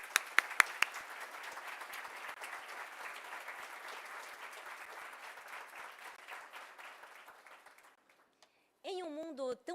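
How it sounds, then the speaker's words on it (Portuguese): Audience applause at a PonTED talk event, a dense steady wash of clapping that gradually thins and fades to near silence, with a few sharp louder claps early on and a voice starting to speak at the end. "Vamos, uma salva de palmas?"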